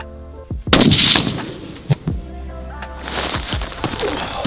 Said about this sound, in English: We're gonna shoot it at 100, one take, jump over here, shoot it at 500.